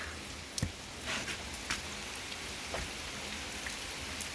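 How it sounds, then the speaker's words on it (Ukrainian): Steady summer rain falling outdoors, a soft continuous patter with a few louder drips landing nearby. "літній дощик, подивіться, звуки. Почуйте."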